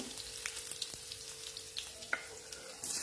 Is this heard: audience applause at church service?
no